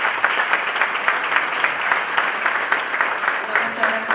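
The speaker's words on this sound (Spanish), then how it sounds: "Fuerte aplauso para la compañera." Steady applause from an audience at a Buenos Aires province labour congress on culture, dense clapping sustained evenly throughout with some voices mixed in.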